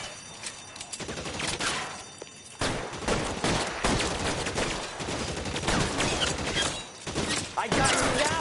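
Gunfire in LA Noire, dense bursts of rapid shots and crackling volleys filling the scene almost continuously, loud and close with brief lulls, while voices shout over the fighting.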